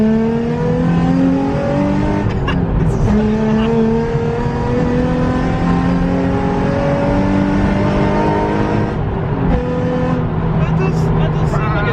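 Modded, stripped-out Nissan 350Z engine revved repeatedly, rising and falling harmonic whine with a deep rumble, loud and close throughout, with brief talk in the background.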